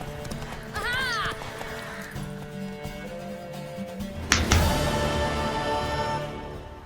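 Galloping horse hooves from The Witcher 3 video game, a steady clip-clop of a mare running throughout, with a whinny early on and a sudden burst of louder action near the middle, over background game sound.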